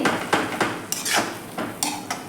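A spoon stirring milk cream into a beetroot barfi mixture in a metal pan: irregular close clinks and scrapes against the pan, several distinct knocks in quick succession, no speech.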